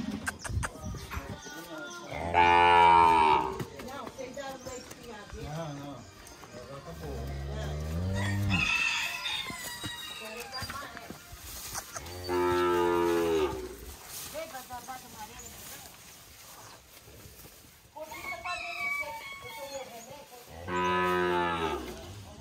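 Cattle moo loudly during hand milking on a farm, with about four long drawn-out calls spread across the stretch while people talk and urge the animals on between them.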